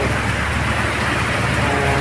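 Heavy rain pours steadily in Pasig City in a dense, loud hiss, with a low rumble underneath and no pauses.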